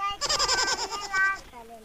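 A goat bleats in a rural Awadhi village setting, a wavering, vibrato cry lasting over a second, loud and close, followed by a shorter trailing bleat.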